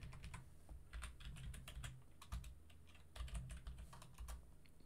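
Typing on an English-layout computer keyboard while entering commands, with a steady run of quick clicky keystrokes close by and brief pauses between bursts.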